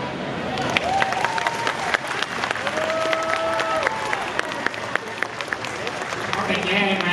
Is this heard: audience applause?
yes